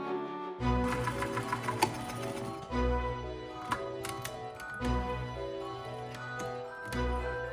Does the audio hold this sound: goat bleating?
no